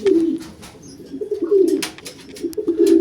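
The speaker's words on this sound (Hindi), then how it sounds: "कनौर फैमिली का ये पैरट है।" Conure parrots, a breeder pair kept in a large cage, give repeated mid-pitched cooing and chattering calls with a few brighter chirps, fairly close and steady across the whole stretch.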